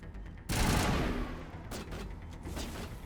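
Gunfire in the sci-fi shooter Mass Effect: a loud burst of rapid shots opens the clip, followed by further volleys and sharp cracks with no talk over them.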